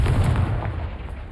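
A Confringo spell in Hogwarts Legacy bursts as a single heavy, deep boom up close, loud at the start and rumbling away over about a second.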